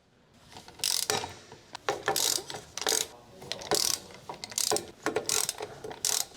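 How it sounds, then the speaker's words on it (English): Ratchet wrench with a 15mm socket and extension loosening drive shaft to rear differential bolts on a 2013-2018 Dodge Ram 1500, rapid clicking bursts repeated in a steady back-and-forth rhythm, close and fairly quiet. "Using the large 15mm short socket, large short extension bar, and large extendable ratcheting wrench, loose the drive shaft to rear differential retaining bolts."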